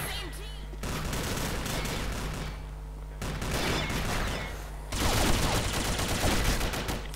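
Gunfire from the Combat Arms video game comes in several loud bursts of rapid automatic shots, separated by short lulls, with game effects and faint talk underneath.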